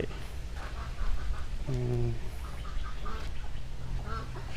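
Ducks quack in short nasal bursts over steady background noise on a farm, with one louder, drawn-out call partway through.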